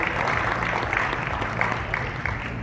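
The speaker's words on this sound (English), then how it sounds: "Please give them all a big round of applause for being winners of their countries." An audience at an Arab ideas conference awards ceremony applauds the winning nominees, a sustained wash of clapping from a crowd in a hall, fairly loud and even, with no speech over it.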